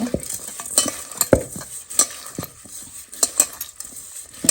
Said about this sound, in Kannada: ಸ್ವಲ್ಪ ಉಪ್ಪು ಇಷ್ಟು ಹಾಕೊಂಡು ಹಿಂಗೆ ಕಲಸ್ಕೊಂಡು